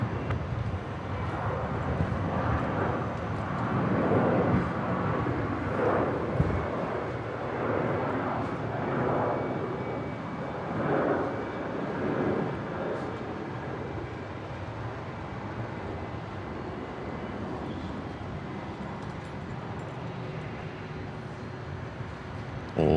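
Airliner taking off at Brisbane airport, a sustained broad jet roar that swells and rolls with pulsing surges, steady and fairly loud throughout with no voices over it.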